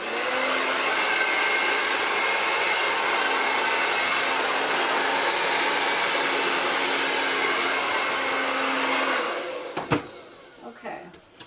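A hair dryer blows steadily and loudly for about nine seconds while styling hair, then cuts off, leaving a few handling clicks and rustles.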